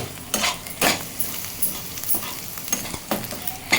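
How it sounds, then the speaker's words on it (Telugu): Onions for brinjal chutney fry in a pan, a steady close sizzle broken by repeated scraping stirs and clinks of a utensil against the metal. "చూడండి ఉల్లిపాయ వేగుతున్నది"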